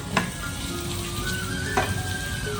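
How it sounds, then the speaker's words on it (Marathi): Kashmiri chili crackling in hot oil for a palak paneer tadka, a steady close sizzle across the whole stretch with a few sharper pops, no voices. "काश्मीरी मिरची घालते फोडणीला आपला तडका आहे पालक पनीर"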